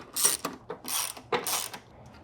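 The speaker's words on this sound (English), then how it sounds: "there are two 10 millimeter nuts that I need to remove" Small metal ratchet clicks and clinks as 10 millimeter nuts are removed from the strut bar of an Alfa Romeo Stelvio or Giulia, a few quick close-up bursts of mechanical rattling with quiet gaps between them.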